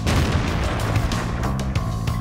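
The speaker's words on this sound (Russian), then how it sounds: "Фугасный разбросает куски взрывом." A high-explosive tank shell bursts against a house in World of Tanks, a loud, close booming blast followed by rumbling debris and crackling impacts that fill the whole stretch without a pause.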